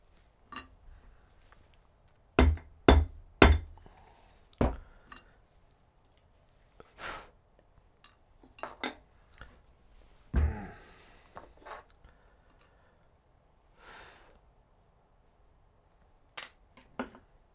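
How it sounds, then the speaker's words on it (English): A hammer strikes silver ring metal to flatten it on a jeweler's bench, sharp metallic taps spaced irregularly, a tight cluster of close hits followed by scattered lighter strikes in a quiet room. "Drop this onto the envelope here and do a quick little flatten there."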